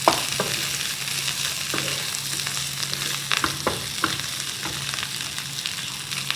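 Green chilies and coriander stirred into a sizzling pan for macaroni samosa filling, a steady crackling fry with occasional scraping clicks of the spoon, close and continuous.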